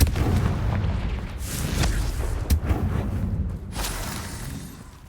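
Repeated booming spell blasts from the Confringo fire curse in a Hogwarts wizarding video game, a dense run of loud explosive bursts and crackling impacts over a rumbling low background, with no talking.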